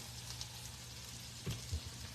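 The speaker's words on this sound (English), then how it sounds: "We already have them in the frying pan." Chicken Parmesan meatballs fry in a pan with a steady, faint sizzle, and a couple of soft bumps near the end sound like a stir.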